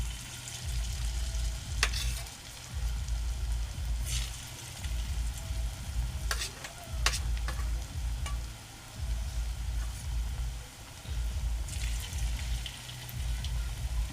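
Bottle gourd fritters fry in hot oil with a constant crackling sizzle, broken by regular low thumping pulses as they are stirred and turned.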